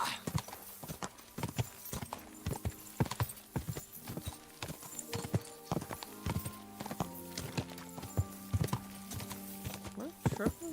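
Horse hooves clip-clop in the video game Kingdom Come Deliverance 2, a quick steady rhythm of close, clear hoofbeats running throughout with no talk.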